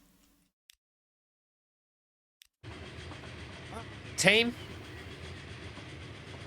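A train rumbles steadily along the track in Transport Fever 2, starting abruptly after near silence, with a loud, brief horn-like squeal partway through and a voice speaking briefly.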